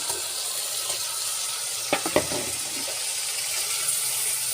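Fish hits hot oil in a pan and fries with a steady, moderately loud sizzle, a couple of sharp clatters of the pan or utensil partway through.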